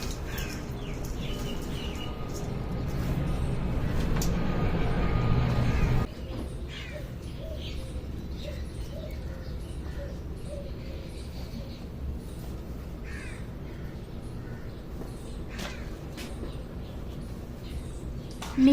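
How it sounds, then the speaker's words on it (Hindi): Small birds outside a home chirp in short, scattered tweets through a summer morning. The calls are faint against steady background hum, and a louder rumble fills the first few seconds. "बाहर चिड़िया की आवाज़ आ रही है"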